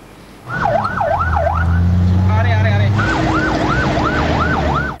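A rescue service ambulance siren wails in rapid rising and falling sweeps, briefly switching to a different fast warble pattern midway, loud and close over rumbling road noise.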